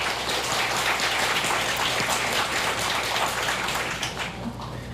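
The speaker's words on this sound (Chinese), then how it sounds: "掌声给他鼓励一下" Sustained applause from an audience at a book launch event for a Taiwanese politician, dense steady clapping filling the room and tapering slightly near the end, with no talk over it.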